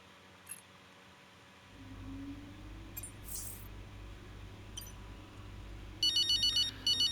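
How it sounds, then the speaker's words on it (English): In the F1 23 racing game's Braking Point story mode, a mobile phone starts ringing near the end with a bright repeating electronic trill in quick pulses, after a quiet stretch of ambient hum and a few faint clicks. "There's the phone."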